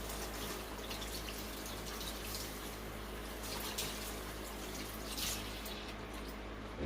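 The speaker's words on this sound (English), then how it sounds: "what I'm doing right now off camera is I'm rinsing the ribs off." Pork ribs are rinsed under a running kitchen tap, a steady, unbroken hiss of flowing water throughout, with no speech.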